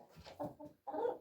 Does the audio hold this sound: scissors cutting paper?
no